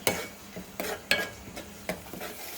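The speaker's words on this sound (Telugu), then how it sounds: "అల్లం వెల్లుల్లి పేస్ట్ ఇది కూడా పచ్చి వాసన పోయే వరకు మనం చక్కగా వేస్తున్నాం" Ginger garlic paste frying in a pan with a soft sizzle, broken by several sharp clacks of a spoon stirring against the pan at uneven intervals.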